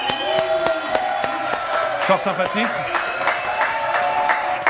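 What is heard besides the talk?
studio audience applause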